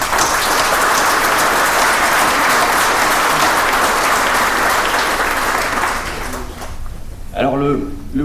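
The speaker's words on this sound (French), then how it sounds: "je me permets de vous applaudir" Sustained applause from a large audience at the inauguration of a new waste sorting centre, dense and steady for about six seconds before thinning out as a voice begins speaking.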